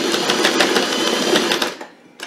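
Sewing machine back stitching on a quilted tote bag, a loud steady mechanical whir with rapid needle strokes for about two seconds before it stops, then a brief click.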